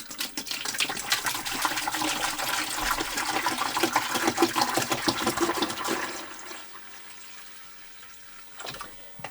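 Cranberry punch pours into a large pitcher in a steady, loud gush of liquid for about six seconds, then thins to a quieter trickle and fades.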